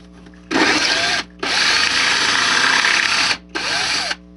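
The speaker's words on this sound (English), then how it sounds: "you have to drill holes for the trees" A power drill whines in three bursts while drilling holes in plaster scenery on a model railroad, a short one, a long sustained run, then another short burst, with brief pauses between; close and loud.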